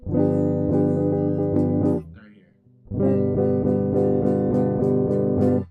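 A guitar barre chord strummed repeatedly in a steady rhythm, pausing briefly before resuming, loud and close with ringing strings.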